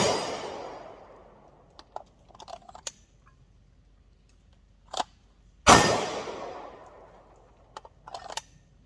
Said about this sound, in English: Draw, fire 1 shot, reholster.